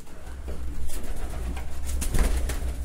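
Pigeons coo steadily in a loft, a continuous layered murmur of several birds close by, with soft rustling throughout and no one speaking.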